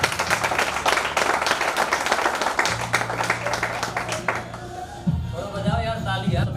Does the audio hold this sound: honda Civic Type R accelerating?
no